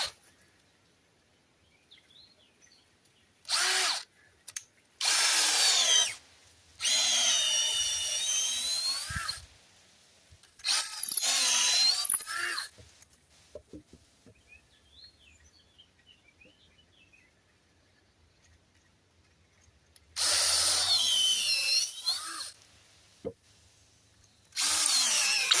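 A power drill drives screws into wooden ladder poles cut from a tree, with several separate high whirring bursts of a few seconds each, close and loud, separated by quiet gaps with faint handling noise.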